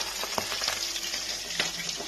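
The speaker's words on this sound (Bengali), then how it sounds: "আর কিছুটা এখানে ভাজা হচ্ছে" Bhetki fish heads and bones fry in hot oil with a steady close sizzle, broken by a few sharp crackles and stirring clicks, and no voices.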